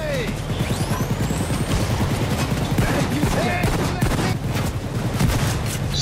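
Gunfire from a shotgun in the video game Payday 2, dense overlapping blasts and battle noise forming a continuous loud barrage, with speech mixed in.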